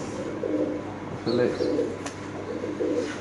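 Pigeons at a pigeon farm coo in low, throaty bursts that repeat every second or so, with a faint voice and rustling in the background.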